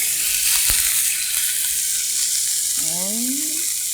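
Meat stir-fries in hot cooking oil for Korean japchae glass noodles, a loud, close, continuous sizzle with a brief rising whine near the end.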